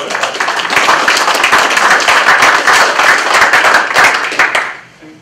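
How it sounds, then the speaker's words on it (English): A community recovery meeting after the Black Forest Fire applauds its volunteer chair: loud, close, crisp clapping from a modest crowd, steady for several seconds before it quickly tapers off and stops. "Let's give him a round of applause."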